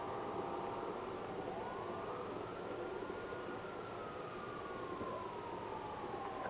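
A police siren from the video game GTA 5 wails steadily at a distance, its pitch sweeping up and down over a dense bed of constant background noise, with no talking.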